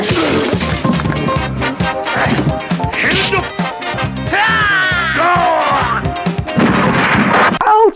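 Loud crashing and smashing effects from an action show, with heavy impacts and bursts layered over a busy music-and-effects mix and a few rising whooshes, continuous and dense throughout.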